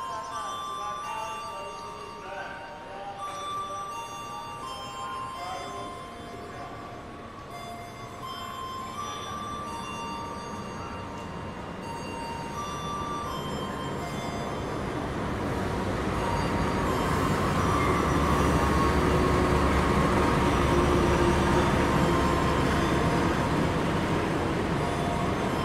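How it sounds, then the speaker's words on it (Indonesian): A Gaya Baru Malam Selatan passenger train arrives at Madiun station: a long rumble that builds steadily louder as the train rolls in, with faint bell tones and station ambience early on. "Itu dia kereta api Gaya Baru Malam Selatan ya."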